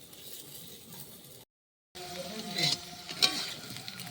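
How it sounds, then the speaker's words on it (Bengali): Vegetables fry one after another in a pan with turmeric, a soft, quiet sizzle that breaks off briefly and then returns a little louder, with light stirring rattles. "সবগুলো সবজি এইভাবে ভেজে নেব পরপর।"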